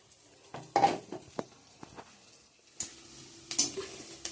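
Bay leaf, dried chilli, onion and cumin hit hot oil for tempering, giving a faint sizzle under sharp clinks and stirring taps from a pan in a home kitchen.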